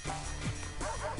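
Chain Chomp from New Super Mario Bros. Wii barking in the video game, three quick yappy barks with falling pitch over steady game music.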